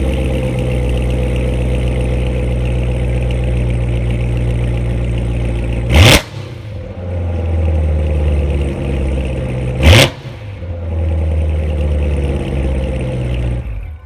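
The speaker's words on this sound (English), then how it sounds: "the best thing about this car is that exhaust startup." A 2015 Chevrolet Corvette Z06 sits idling with a deep, rumbling exhaust, broken by two sharp, loud throttle blips a few seconds apart that fall back to a burbling idle.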